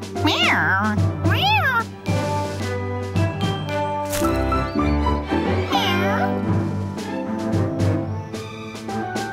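Repeated cat meows from a cartoon, sliding up and down in pitch, come in quick succession over a steady musical background.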